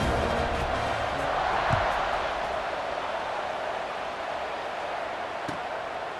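A stadium crowd in a football video game roars in a dense, steady wash before a kickoff, with a couple of faint thuds rising briefly above the sustained noise.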